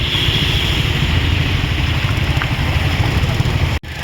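A dense, steady roar of heavy rain at the flooding Kayadhu River in Hingoli, loud and continuous, with gusty rumbling like wind buffeting the microphone, and a brief dropout near the end.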